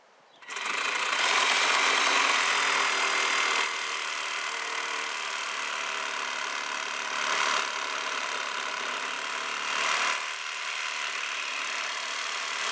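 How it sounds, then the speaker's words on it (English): A reciprocating saw cutting through a wooden 4x4 mailbox post, a loud buzzing motor that starts abruptly and runs steadily, with slight surges as the blade bites before it stops. "I'm going to mark it 22 inches above the ground and then cut it down with a reciprocating saw"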